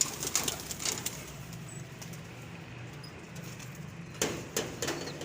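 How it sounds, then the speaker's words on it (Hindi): Kasuri pigeons kept as breeding pairs in a rooftop cage coo softly in the background, with light rustling and a few brief clicks or knocks. "ये मेरे मेन जोड़ों वाले कबूतर है"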